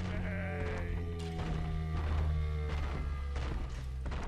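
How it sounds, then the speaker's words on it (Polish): A creature bleats in the BioShock 2 video game, a wavering sheep-like cry with sustained tonal bands, set among thuds and game ambience at moderate loudness, with no voices over it. "Ktoś już tu mi beczy gdzieś."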